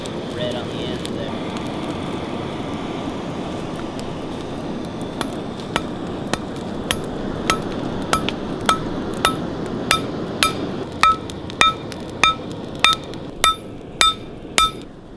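A blacksmith hammers hot steel into a spoon carving knife, the blows starting sparse and growing into a steady, loud ringing rhythm of sharp strikes on an anvil over a roaring forge fire, with faint talk in places.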